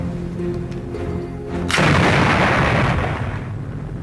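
A bomb blast explosion erupts suddenly as a sharp, loud burst partway through, then a broad, sustained rumbling roar that slowly fades, following a quieter passage with faint tonal background sound.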